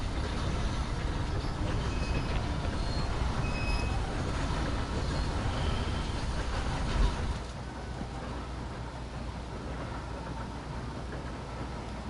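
Train in the Red Dead Online game rolling past as a continuous low rumbling wash of rail noise, steady and fairly loud, easing slightly toward the end.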